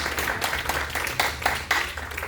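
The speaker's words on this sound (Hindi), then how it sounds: "तो ताली बजनी चाहिए भाई।" Applause at a Hindi poetry gathering: a short burst of scattered audience clapping, a few pulses of many hands close together, moderately loud.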